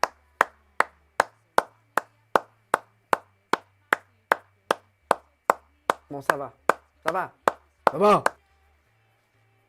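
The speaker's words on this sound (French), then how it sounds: "s'il n'y a qu'une personne qui applaudit" A single person claps slowly and steadily, about two dozen sharp, evenly spaced claps, close and clear, ending in a few rougher bursts, with a brief spoken remark near the end, on a French comedy broadcast.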